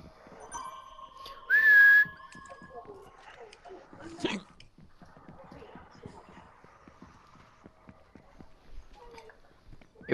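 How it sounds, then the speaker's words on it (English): In a Fortnite prop hunt match, a player's whistle rings out once, bright and loud for about half a second, followed by quieter in-game thumps and footstep-like clatter in a mostly hushed scene. "And the whistle was over here as well."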